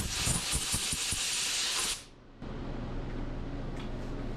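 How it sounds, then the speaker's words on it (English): A loud, harsh blast of compressed air from an air hose cleaning out a band saw hisses for about two seconds, then stops, leaving a steady heater hum. "I'm just going to grab the air hose and clean this out."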